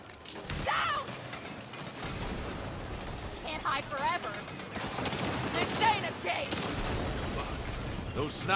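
Sniper gunfire rains down from an upper floor in the video game Saints Row, sharp shots and mechanical clatter running through a busy game mix while voices talk over it.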